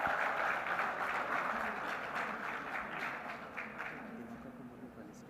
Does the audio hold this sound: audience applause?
yes